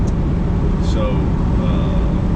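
A 1973 Triumph Stag, freshly rebuilt after a frame-off restoration, driving along with a steady low road and engine rumble that continues without a break, while someone talks over it.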